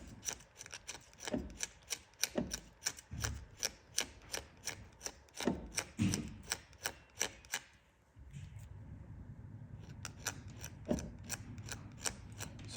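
Abrasive strip rubbing rhythmically against a Torque Master II shaft oil seal surface, taking down high spots: a steady series of close, sharp rasping strokes, pausing briefly before a continuous grinding rub resumes, with no talking.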